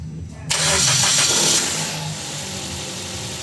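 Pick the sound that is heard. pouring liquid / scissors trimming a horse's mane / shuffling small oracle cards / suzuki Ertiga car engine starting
suzuki Ertiga car engine starting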